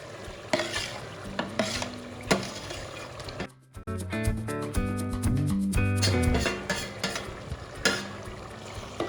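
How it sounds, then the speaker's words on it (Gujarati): Chopped eggplant tipped into a hot pan for Kathiyawadi-style brinjal bharta, then stirred with a spatula, bringing bursts of sizzling, scraping and clattering strokes under a steady frying hiss, close and busy. "હવે આપણે આ રીંગણા જે કટિંગ કરેલા છે અને હવે આપણે એડ કરી દઈશું આમાં"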